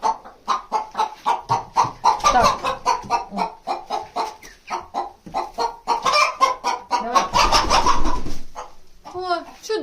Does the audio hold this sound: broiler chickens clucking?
yes